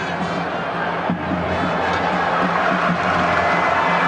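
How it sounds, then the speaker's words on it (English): Stadium crowd at a U-20 Women's World Cup quarterfinal between the USA and Nigeria, a steady wash of murmur and rising cheers rolling on continuously at a distance beneath the match atmosphere. "Crowd appreciate that build-up."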